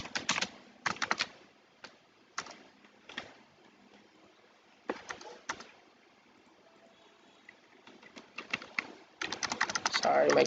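Bursts of fast typing on a computer keyboard, close and fairly loud, coming in irregular clusters separated by short pauses, with a dense run of keystrokes at the end.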